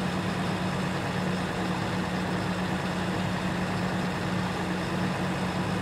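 A tractor engine running during a sugar beet harvest gives a steady, low droning hum at an even pitch, constant and unchanging with no pauses or talk.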